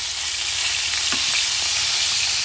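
Bison heart frying in hot oil, giving a loud, steady, close sizzle with a few faint pops and scrapes.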